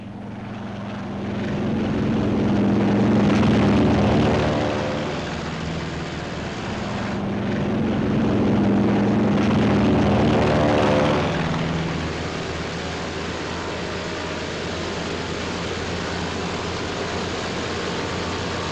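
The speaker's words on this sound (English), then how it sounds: "Our entire air group thunders out behind the group commander." WWII carrier planes taking off from a flight deck in a Philippine trade wind, a whole air group roaring out one after another; loud, sustained propeller-engine drone swelling and fading in waves as aircraft pass close by.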